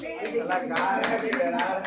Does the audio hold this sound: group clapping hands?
yes